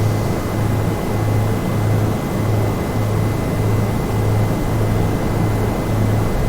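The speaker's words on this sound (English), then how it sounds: "You'll notice the helicopter starting to steer to the right, so you want to just put a slight bit of left rudder on." A Bell 407 helicopter drones steadily at lift-off, a loud, continuous rotor and turbine roar with a regular low pulsing throb repeating throughout, heard from inside with no voices.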